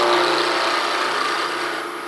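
Steady rasping hiss of a turning tool cutting a wooden pen blank spinning on a lathe, a continuous close scraping tone that fades slightly toward the end, with no talk.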